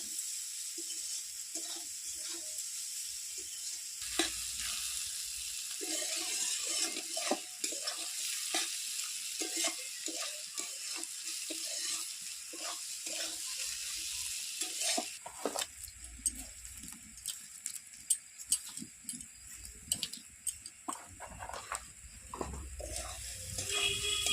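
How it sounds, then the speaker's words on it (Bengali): Vegetables stir-fry in a hot pan for paneer veg chowmein, giving a continuous sizzle broken by frequent scraping and tossing strokes of a spatula, with no voices. "এবার আমি ভাজা হয়ে গেছে সবজিগুলো আমি সব তুলে নিই"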